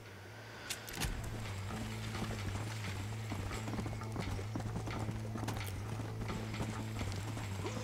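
Horse hooves clip-clop steadily in Red Dead Redemption, a continuous rhythmic trot at close range, loud and unbroken for most of the stretch with no talk over it.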